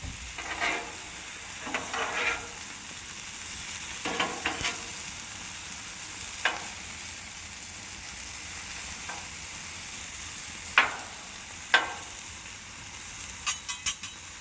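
Potatoes and garlic herb pork loin sizzle steadily on a Blackstone 36 Pro griddle, a continuous frying hiss broken by scattered scraping clicks of a spatula stirring, close and fairly quiet.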